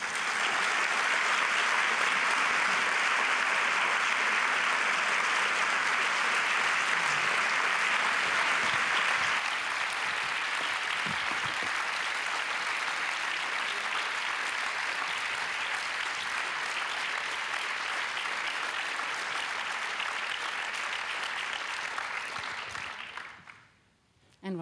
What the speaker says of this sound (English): And rightfully so, there is a long applause.